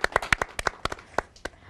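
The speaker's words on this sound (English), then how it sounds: "Now we can applaud." A small studio audience at a TV talk show applauds with sparse, distinct claps, roughly a dozen sharp hand slaps in an uneven rhythm, fairly close and moderately loud.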